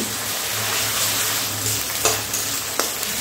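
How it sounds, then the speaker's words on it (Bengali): Onion, garlic and ginger pastes fry in oil for chicken kosha with a close, steady sizzle, and two sharp spoon knocks from stirring cut through near the end. "এবারে পেঁয়াজের সঙ্গে এই মশলাগুলো একটু ভালো করে ভেজে নিতে হবে"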